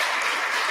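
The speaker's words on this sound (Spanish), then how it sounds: "agradecer a nuestra expositora hoy día con un aplauso" A lecture audience gives a speaker a short, dense wash of applause, even and sustained with no gaps.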